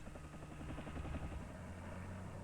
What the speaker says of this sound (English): A helicopter is used to spray trees on large tree farms.